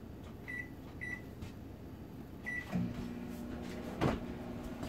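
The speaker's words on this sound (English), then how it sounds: "put it in the microwave and set it for the total cook time gonna be 2 minutes" A microwave oven runs with a steady hum and fan drone while spaghetti squash cooks inside, a few faint beeps and a soft clunk standing out near the start and end.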